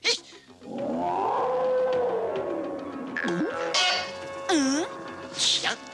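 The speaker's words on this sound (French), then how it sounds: "Tiens, encore ce bizarre cri de serpent." A strange snake cry in a cartoon rises as a long wavering wail, then breaks into warbling, swooping calls and chirps, loud and close with no talk.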